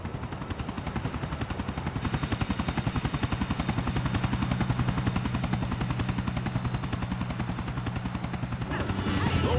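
Helicopter in Grand Theft Auto IV taking off, a steady rapid rotor chop with a low engine drone, loud and sustained, with a brief burst of other noise near the end.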